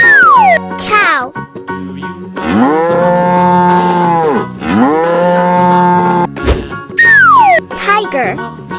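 A cow in an animal-painting video game gives two long, loud, close moos, framed by bright sliding game sound effects and a short jingle.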